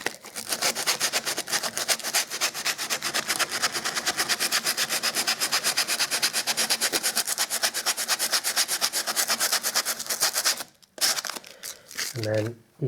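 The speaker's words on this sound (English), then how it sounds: "You can sand the top edge of the skirting board." Abrasive sanding along the top edge of a skirting board makes a fast, rhythmic rasping scratch that runs steadily and loudly before cutting off near the end, where a few sounds of handling follow.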